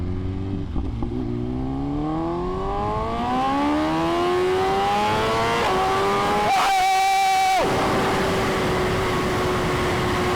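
A BMW S1000RR sport bike engine revs hard through rising pitch sweeps during a small power wheelie, loud and close, with wind rush throughout and a brief gear-change dip near the end.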